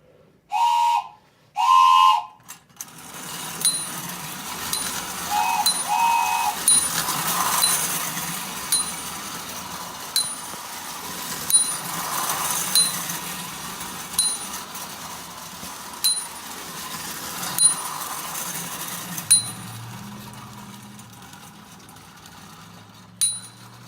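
A Marx tin plate clockwork toy train set runs with a faint whirring clatter, ticking clicks recurring regularly along the track, after a couple of loud knocks at the start, winding down after about twenty seconds.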